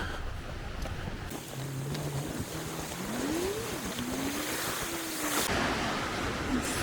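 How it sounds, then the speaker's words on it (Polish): Soft Baltic Sea waves at Lubiatowo, Poland wash steadily under a constant whoosh of wind and a low boat engine hum droning in the background. "Morze spokojne, wiaterku nie ma, lekkie fale słychać."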